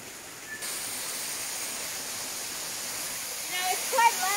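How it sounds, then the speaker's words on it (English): Steady broadband rushing of a waterfall fills the scene, a constant hiss-like roar that swells slightly near the end. "Now it's quite loud, the waterfall, I mean."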